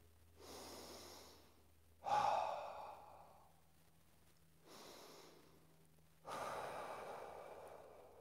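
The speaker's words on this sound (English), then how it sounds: "Deep breathing." Deep, slow breathing during seated meditation in a Shotokan karate class: two full cycles of long airy inhales and heavier exhales, close and fairly soft, with no talking and a low hum underneath.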